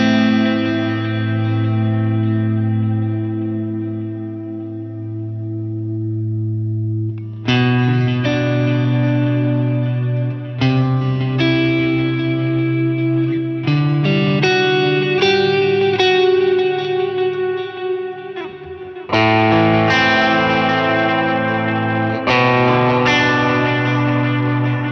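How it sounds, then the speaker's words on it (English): Electric guitar chords ring out with lush stereo dual delay repeats from a Strymon DD500 and a long, washy Eventide Black Hole reverb tail, sustained notes blooming into ambient echoes. "I've turned on a dual delay from the DD500 in stereo and the Black Hole reverb from Eventide"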